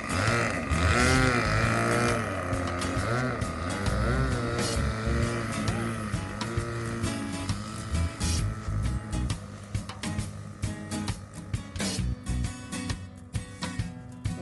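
An OS 46 engine drones on a Phoenix Models Tiger 3 Sport RC plane before its maiden flight, loud and continuous, its pitch rising and falling as the throttle is worked, then roughening and sputtering toward the end.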